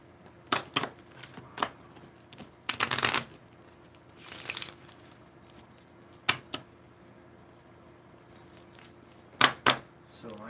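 Playing cards are handled for a card reading. Several quick, quiet bursts of shuffling and flicking come in separate clusters, with a near-silent room between them.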